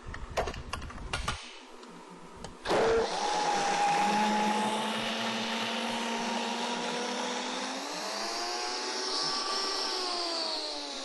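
After a few clicks, a 1989 Vita-Mix blender starts up loud and close, its motor whine rising and racing freely as an air bubble leaves the blades spinning with little load.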